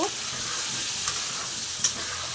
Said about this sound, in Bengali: 10 মিনিটের জন্য এটাকে সুন্দর করে একটু ভেজে নিব